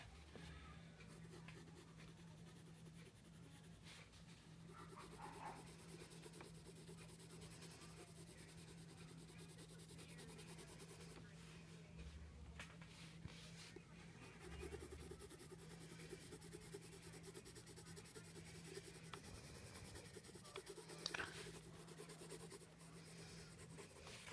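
A dark green colored pencil shades on paper with a soft, continuous scratchy rubbing, quiet and close, in steady back-and-forth strokes over a low background hum.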